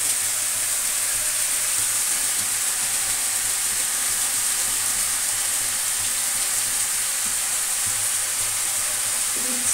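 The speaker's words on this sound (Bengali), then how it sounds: "এঁচড়টাও কিন্তু আমি একটু ভেজে নিচ্ছি" Young jackfruit frying in a pan gives a steady, broad sizzle and hiss that stays even and fairly loud throughout, with no talking.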